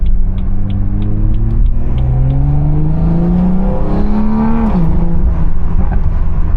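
BMW car with a loud aftermarket exhaust revving, a deep engine note rising steadily in pitch then dropping sharply, with a constant low rumble throughout, close and loud.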